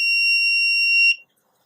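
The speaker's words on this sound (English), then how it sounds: "the buzzer comes back on again" Electronic buzzer of a Raspberry Pi laser tripwire sounds a single steady high-pitched tone for about a second, then cuts off abruptly to silence.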